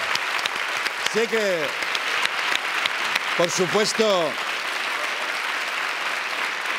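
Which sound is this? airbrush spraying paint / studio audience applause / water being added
studio audience applause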